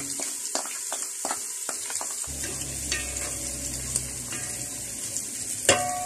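Ginger garlic paste and green chilies hit hot oil in a pot for a pulao, bursting into a loud steady sizzle after a few opening utensil clinks, with occasional stirring scrapes.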